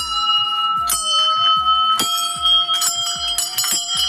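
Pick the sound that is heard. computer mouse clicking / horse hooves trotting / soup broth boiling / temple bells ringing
temple bells ringing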